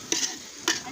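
Two quick, close scraping strokes of a spoon stirring food being sautéed in a pot during children's Sunday home cooking, fairly loud with a short pause between them and no talking.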